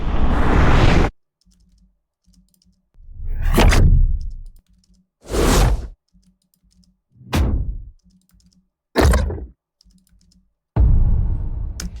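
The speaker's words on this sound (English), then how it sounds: "So different whooshes, different impact, they complement each other, they have different character." A build-up of sound-design effects for animation: several separate whooshes and heavy impacts, loud and close, each burst lasting about a second, with short gaps of near silence between them and no speech.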